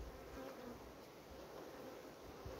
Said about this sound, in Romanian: Ce de albine e.